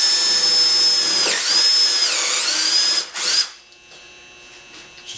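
Power drill fitted with a Forstner bit boring relief holes into a bass guitar body, a loud steady whine for about three seconds that dips midway, then cuts off abruptly leaving faint background hum.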